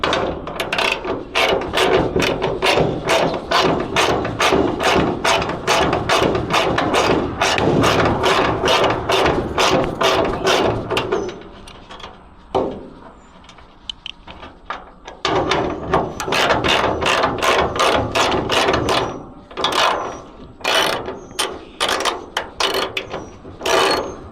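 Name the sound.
ratchet wrench working on bolts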